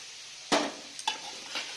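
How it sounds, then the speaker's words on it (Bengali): Potato, cauliflower and carrot frying in a pan, with a steady soft sizzle and a few sharp stirring scrapes and clinks, nearby and without talk. "আলু ফুলকপি গাজর থেকে একটু ভাজা হচ্ছে"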